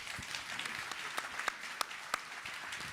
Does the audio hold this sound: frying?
no